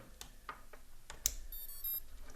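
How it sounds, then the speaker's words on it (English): A quiet run of short electronic beeps, then a rising series of tones as a micro quadcopter drone's ESC motor controllers sound off on connection, with faint clicks between. "the ESCs are singing, beeping"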